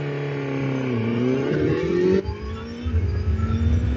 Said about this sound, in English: it's time to give the Suzuki GSX-S GT the acceleration test up to the national speed limit